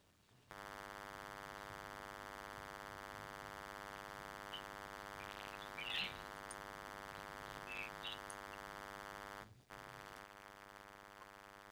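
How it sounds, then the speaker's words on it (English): A weather radio emergency attention signal plays as a steady, sustained electronic alarm tone for about nine seconds, loud and unbroken, then cuts off abruptly, with faint background sounds and no voices. "The attention signals you just heard will automatically activate special receivers to warn of the impending"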